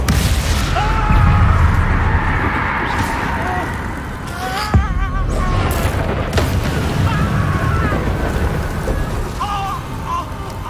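Spell blasts from the Confringo fire spell in the Hogwarts Legacy video game, dense rumbling booms and crackling over a constant roar of game sound, with several sharp impacts and voices speaking throughout.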